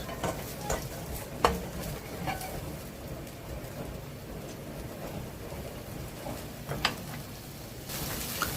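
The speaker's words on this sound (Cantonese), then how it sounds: "用鑊鏟將佢兜勻" Choi sum stems get tossed with a metal spatula in a wok, a soft ongoing sizzle broken by occasional scraping clanks of the spatula against the pan, close by with no talking.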